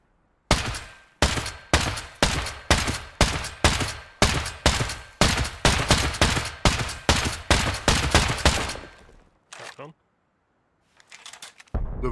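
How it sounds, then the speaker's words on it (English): A shotgun trap fires repeatedly in the survival video game Rust, a rapid string of loud, close, sharp blasts at a steady rhythm, followed by a brief gap and a few softer bursts. "Another shotgun trap."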